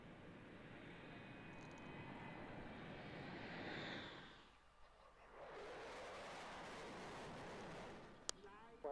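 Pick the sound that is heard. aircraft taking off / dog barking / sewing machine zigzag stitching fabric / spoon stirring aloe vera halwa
aircraft taking off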